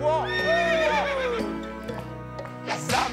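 A cartoon horse gives a loud, close whinny with rising and falling pitch, followed by clip-clop hoofbeats and a short burst of noise at the end.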